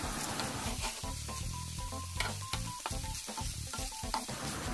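Boiled, shredded chicken frying in a pan, giving a steady close sizzle with stirring scrapes and clatter throughout and no talking.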